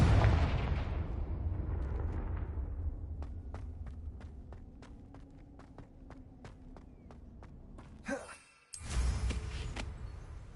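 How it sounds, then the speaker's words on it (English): A Confringo fire spell blasts in Hogwarts Legacy on PS5: a sharp, loud burst near the end breaks through a steady bed of game ambience and rhythmic footsteps, then a dense roar follows. "Confringo."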